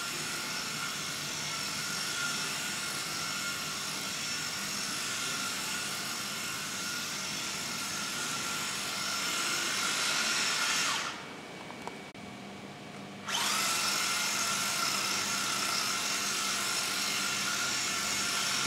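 A Mini-Z AWD RC car drifting with the steering at full lock gives a steady, high electric motor whine that briefly drops off before resuming at the same pitch.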